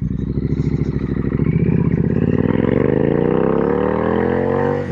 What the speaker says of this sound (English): I would say that this is quite the performing motorcycle